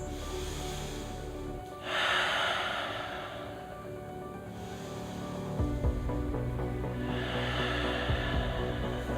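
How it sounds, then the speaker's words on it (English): Slow, deep yoga breathing while holding a figure-four hip stretch: long, airy inhales and exhales swelling and fading over several seconds under a steady low background hum, no speech. "Let's take 2 breaths."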